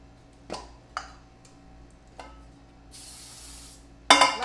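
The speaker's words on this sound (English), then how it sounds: "lightly spray the whole pan" A short hiss of cooking spray is sprayed over a cake baking pan and its parchment, preceded by a few small clicks and taps and followed by a sharper clatter.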